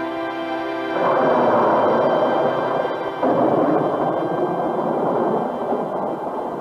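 Rain falling on land, a dense steady hiss of drops that swells after a quiet opening and continues evenly, alone without voices.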